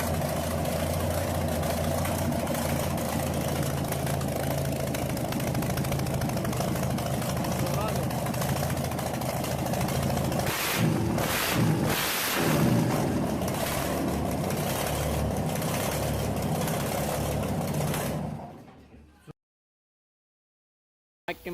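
A FAMOS diesel engine idles with a steady, low, rumbling drone that holds for about eighteen seconds and then cuts off abruptly. A voice talks over it throughout.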